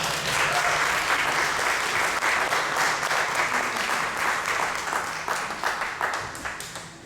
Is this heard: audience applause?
yes